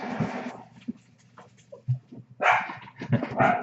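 Dogs at a household door give a sharp bark and whimpering yips in several bursts, with quieter gaps between, fairly close and alone without speech.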